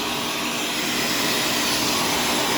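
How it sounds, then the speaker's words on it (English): Shark self-cleaning vacuum cleaner running across a kitchen floor, a loud, steady broadband whoosh with a constant motor whine that holds evenly throughout, close by and without voices. "Right now I'm trying to vacuum the floor here, guys."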